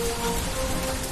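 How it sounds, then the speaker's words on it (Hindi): Heavy rain, with hail, falls in Delhi as a dense, continuous hiss and patter, steady and close throughout. "जमकर बारिश हो रही है।"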